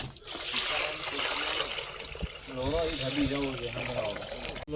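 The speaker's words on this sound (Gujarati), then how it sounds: "ચલાનું પાણી નાખી દે" Water is splashed and poured out of a small fishing boat in a coastal creek, a steady wash of splashing and trickling up close, with people talking over it.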